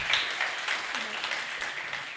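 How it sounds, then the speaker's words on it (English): Audience applause at an Ethiopian entrepreneurship interview event, a steady wash of clapping lasting a couple of seconds at moderate level, with faint voices underneath. "Okay, can we give an applause?"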